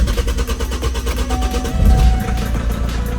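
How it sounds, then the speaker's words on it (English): A Vauxhall Astra 1.7 TDCi diesel with stalling and surging trouble is cranked and struggles to start, a pulsing, uneven churn that swells into a rougher, louder running rumble near the end, recorded up close. "So let's start the engine and see what we get."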